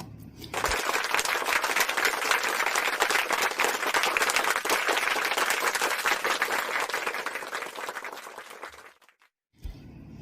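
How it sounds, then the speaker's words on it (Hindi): Loud, sustained applause from an audience at a business celebration event, dense clapping filling nearly nine seconds before cutting off abruptly, followed by a brief pause. "तो इन सभी साथियों के लिए भी एक बार जोरदार तालियां"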